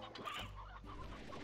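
Several chickens in the video game Slime Rancher cluck and squawk continuously at close range, busy overlapping calls with a steady low rumble underneath and no talking.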